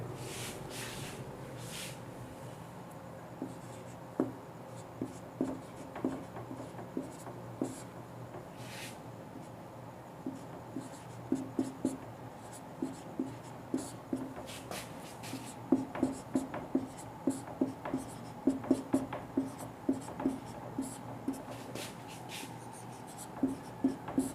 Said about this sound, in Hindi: तो कुछ शब्द मैं बोर्ड पे लिख रहा हूँ